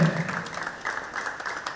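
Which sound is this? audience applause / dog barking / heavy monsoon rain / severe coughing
audience applause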